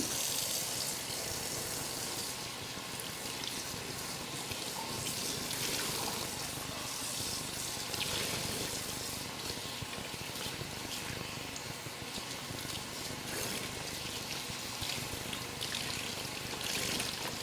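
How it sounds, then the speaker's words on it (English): Warm water runs steadily into a sink, rinsing Rit-dyed cross stitch fabric in a tub, a continuous close pour and trickle with no talk. "rinse it with any kind of warm water"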